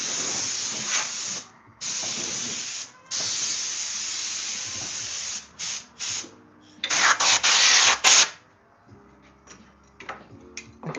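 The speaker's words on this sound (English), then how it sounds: "now let's get the Dremel set up" Dremel rotary tool working on handmade cheese knives, a loud high-pitched whirring in repeated bursts of a second or more with short pauses between, one harsher grinding stretch near the end, then quieter handling.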